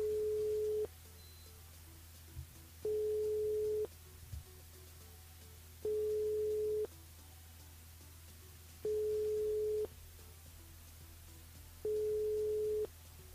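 A telephone busy signal heard over a radio call line: a steady tone pulses on and off in regular beeps, about five repeats, each roughly a second long with equal gaps.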